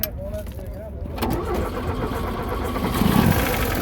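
A Zhiguli (Lada) car with a petrol-and-gas engine cranks, catches and settles into a rough idle up close, with a person speaking briefly at the start.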